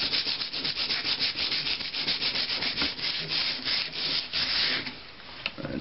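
Sandpaper rubbed back and forth along a rusty sword blade, a steady close scratching rasp in repeated strokes throughout, loud and alone.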